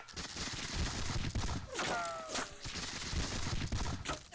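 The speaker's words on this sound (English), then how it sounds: "Some very vicious musket fire." A musket volley in a Seven Years War battle video game, a dense rolling crackle of many shots blending into a continuous roar, heard loud throughout without talk.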